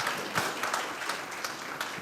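A church congregation claps in praise to God during a worship service, a fairly quiet, uneven patter of hands with a few louder bursts, heard from some distance in the room.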